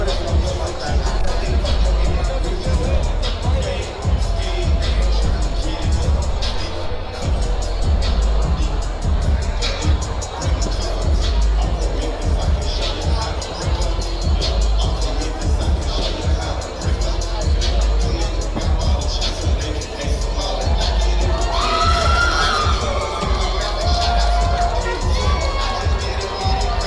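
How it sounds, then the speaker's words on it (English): An arena crowd at an MMA event cheers and shouts continuously for fighter Dominic Moreno, a dense roaring wall of voices with whistles, loud and unbroken throughout. "Crowd loving Dominic Moreno on his way out of the arena here"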